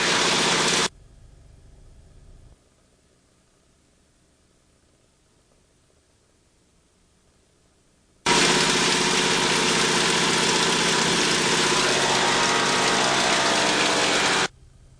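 A light aircraft engine runs loud and close during a magneto check, drops to a much quieter, lower running level for several seconds, then surges back to full, steady loudness before cutting off near the end.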